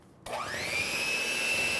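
An electric hand mixer whirs up abruptly and holds a steady, fairly loud drone while beating gingerbread loaf batter, with no talking.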